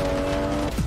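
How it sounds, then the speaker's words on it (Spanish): A car drifts in the Racing Master mobile game, a steady tonal engine whine with a sharp tire squeal sliding down at the end of a brief loud burst. "Con ese derrape"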